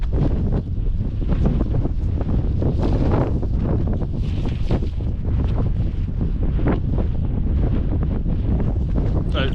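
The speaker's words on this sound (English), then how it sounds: "That wind is cold." Cold wind buffeting a summit campsite in a wind and rain storm, a loud steady roar with rumbling gusts pressing on the microphone, nearly constant throughout.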